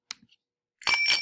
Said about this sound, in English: The bell makes that sound.